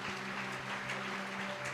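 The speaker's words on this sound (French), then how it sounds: "Dale un aplauso a Jesús." A congregation applauds Jesus during a church service, a dense, steady wash of clapping from many hands that continues throughout without a break, with some faint background tones underneath.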